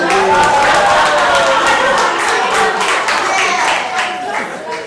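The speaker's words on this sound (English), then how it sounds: "Can we clap for them?" An audience at a civil society and sustainability event claps loudly and continuously for a drama performance on leadership and governance, with scattered voices mixed in.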